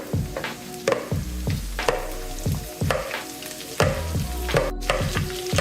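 Browned sausage dumped into a pan of oil with collard greens, frying with a steady sizzle under repeated scraping and stirring thuds, close and fairly loud with no talk.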